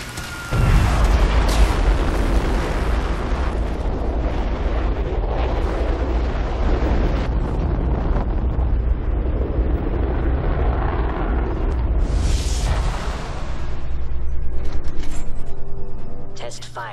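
Engine test firing in the video game Fallout 4: a loud, sustained roaring rumble that rises and swells toward the end, with talking over it.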